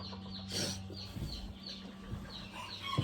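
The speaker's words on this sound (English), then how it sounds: "Here's the hen." A silver Sebright bantam hen on a farm gives a few soft, faint clucks among other poultry sounds, with a short flutter of wings partway through.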